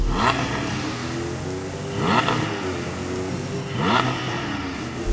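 A car engine revs hard three times in a row to about 5,000 RPM, each rise sharp and loud, with a steady rumbling idle between the revs.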